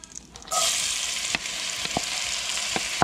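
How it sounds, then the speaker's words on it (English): Onion dropped into a hot pan coated with browned bits from sticky chicken, setting off a sudden loud sizzle that keeps crackling, with a few soft knocks of a utensil. "we add our onion."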